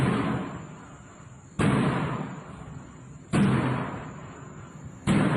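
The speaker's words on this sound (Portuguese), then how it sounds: "É a porta da caixa de incêndio que está batendo." Metal fire hose cabinet door banging shut at night in an empty building, three loud sharp slams spaced about two seconds apart, each followed by a ringing decay and a high whine.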